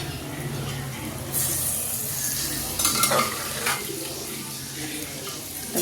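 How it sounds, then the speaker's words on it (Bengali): Mutton being stirred into spice masala in a pan, with a steady frying sizzle and scraping stirs, a louder burst of sizzle partway through as the meat hits the hot mixture. "এখন আমি এই মাংসটা তুলে এই যে মশলা কষানো হয়েছে এর মধ্যে"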